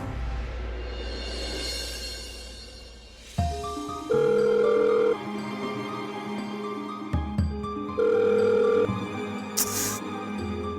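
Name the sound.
telephone ringing unanswered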